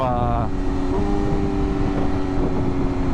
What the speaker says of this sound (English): just the rev limiter